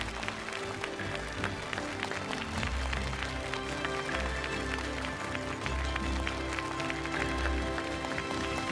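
Applause from a studio audience welcoming a guest onto the stage of a Chinese television poetry show, a steady dense wash of clapping running the whole time alongside background music.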